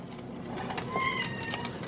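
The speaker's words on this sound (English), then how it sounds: "my kitty cat smells the chicken" A house cat meows a couple of short times near a kitchen stove where chicken with rosemary is cooking, faint against low background hum.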